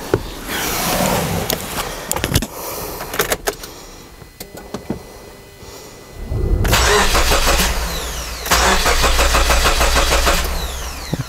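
A Subaru Forester engine cranks and catches during starting, loud and close, with repeated cranking bursts and rough running that cuts out, after earlier clicks and rustling.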